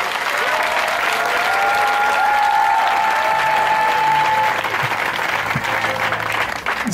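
A church congregation applauds and cheers steadily throughout a Sunday revival service, a dense wash of clapping with voices mixed in and a sustained tone running through the middle.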